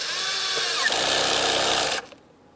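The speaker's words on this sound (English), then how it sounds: "We'll tighten our 7mm clamp." A power tool spinning at high speed, tightening a 7mm radiator hose clamp on a 2013-2020 Ford Fusion 2.0L, one loud close whine for about two seconds, then an abrupt stop.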